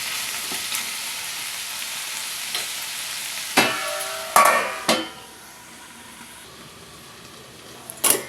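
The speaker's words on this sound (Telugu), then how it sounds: "వంకాయ ముక్కలు మెత్తబడేంత వరకు మూత పెట్టి మగ్గించుకుందాం" Brinjal pieces cooking soft under a lid in a pan for vankaya pacchiroyalu curry: a steady soft frying sizzle with a few louder clattering bursts midway, then quieter simmering and a short knock near the end.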